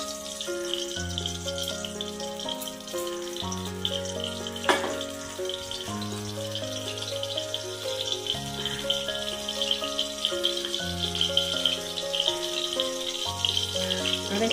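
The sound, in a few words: oil sizzling and frying in a hot kadai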